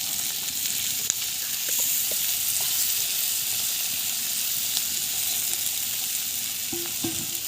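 Spices and soaked masoor lentils sauté in a pan with a dense, steady sizzle close by, dotted with small stirring knocks and scrapes throughout.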